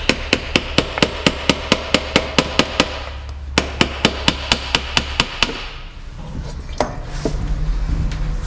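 Hammer taps on the starter motor of a Harley-Davidson trike with a drive problem: quick, evenly spaced metallic knocks in two steady runs with a short break between, close and fairly loud, then fading into low rumbling background noise.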